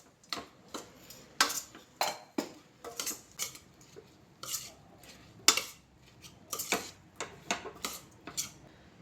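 A spoon scrapes and taps through a bowl of grated coconut, cardamom powder and ground cumin for Kerala-style sukiyan filling. The clicks and scrapes come in an irregular, fairly quick rhythm, soft and close, with no talking.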